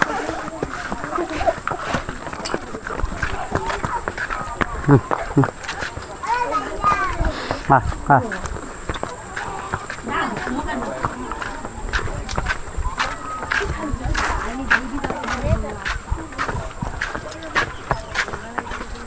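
Horse hooves clip-clop in an uneven walking rhythm on hard ground, while people talk throughout nearby.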